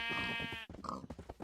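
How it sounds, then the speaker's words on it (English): Sheep bleating in the Minecraft video game, two wavering synthetic bleats in quick succession, close and clear with no talk. "Here's the sheep."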